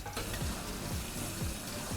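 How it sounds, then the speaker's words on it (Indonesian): Free-range chicken fries in hot oil, a continuous crackling sizzle with a few soft scraping or stirring strokes repeating at a regular pace, close and moderately loud, with no talk. "kita goreng dulu ayam kampung"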